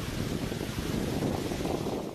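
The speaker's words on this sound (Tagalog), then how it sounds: "Malalakas na alon naman ang humampas sa dalampasigan sa Sitio Japila nitong Miyerkules." Strong storm waves hitting a beach at Sitio Japila, a steady roar of surf heavily mixed with wind buffeting the microphone, continuous and loud throughout.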